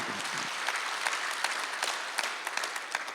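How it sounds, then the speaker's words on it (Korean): A church congregation at a Sunday service applauds, producing a steady wash of many hands clapping with some sharper individual claps cutting through near the end. "박수하세요."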